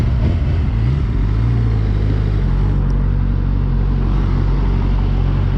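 A 2009 Suzuki GSX-R 600 stunt bike fitted with crash bars, dirt bike handlebars and a big sprocket rides along, its engine a steady low rumble with constant road and wind noise throughout.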